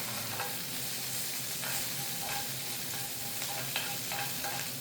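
Anchovies stir-fried with Cheongyang chili and salt give a continuous soft sizzle with light scraping and occasional tapping as they are tossed in the pan.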